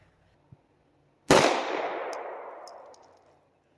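A single sharp gunshot from a SIG P320 X Compact pistol at an outdoor range, loud and close, with a long reverberant tail fading over about two seconds, preceded by a faint click.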